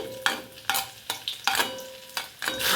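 Chopped garlic sizzles in a pan with hing and a bay leaf while a utensil stirs it in several distinct scraping strokes, close and fairly quiet over a steady frying hiss.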